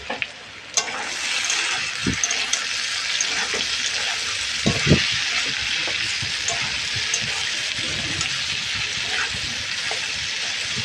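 Split green chillies fry in hot oil for a dal, a steady close sizzle and crackle running throughout, with a few sharper pops and spatters near the start and middle.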